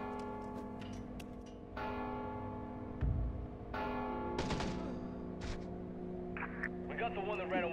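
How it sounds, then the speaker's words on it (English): A bell rings out in the Mark of the Ninja game on Xbox 360, with sustained tonal strikes over background music and game sounds, plus a brief thud partway through. "Don't you hear the bell?"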